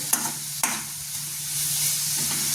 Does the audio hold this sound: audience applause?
no